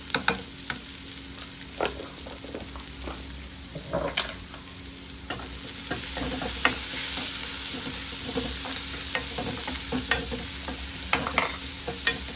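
Onions frying in oil with a little salt until they brown, for hotel-style puri sagu. A continuous sizzle carries frequent spoon scrapes and clicks against the pan, and the frying grows slightly louder midway.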